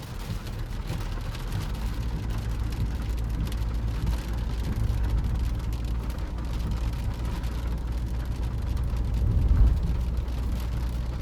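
Rain patters steadily on the body of a Mahindra Scorpio N 2026 SUV, a dense continuous wash of drops over a low, rumbling cabin drone, with no talking.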